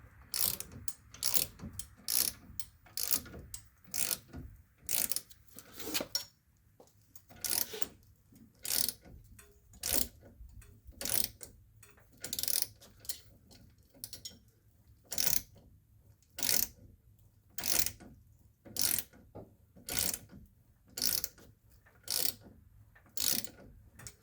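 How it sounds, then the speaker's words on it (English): A hand ratchet tightens the upper ball joint on a 2002 Chevrolet Silverado, giving close, crisp bursts of rapid clicking in a steady back-and-forth rhythm with short pauses between strokes, no talk over it. "we're going to go ahead and start tightening this down"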